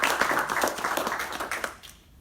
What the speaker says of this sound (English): A round of applause for those folks